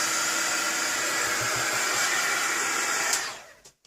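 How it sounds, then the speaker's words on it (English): A heat gun blows steadily and loudly over an art journal page coated with gesso and matte medium, a continuous airy roar that holds for about three seconds before it cuts off. "just a super quick with the heat gun."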